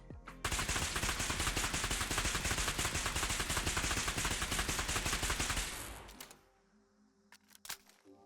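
Custom laser RCW rifle in a Fallout 4 mod fires a dense, rapid automatic burst for several seconds, then stops, followed by quieter clicks and mechanical reload sounds.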